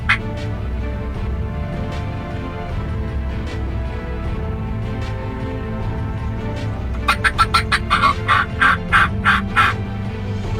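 An eastern wild turkey gobbler in spring woods sounds a run of loud, rattling gobbles in quick bursts near the end, over a steady low background hum.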